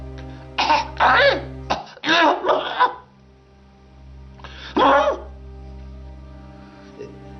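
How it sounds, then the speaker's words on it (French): A man clears his throat several times in rough, raspy bursts, with a pause before a final clearing, over a steady low background hum. "Je me racle la gorge comme si j'avais un truc qui était coincé"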